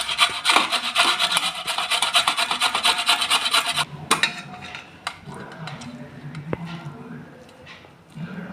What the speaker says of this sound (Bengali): আমি এই ছোট ঘষা দিয়ে ঘষে নিচ্ছি।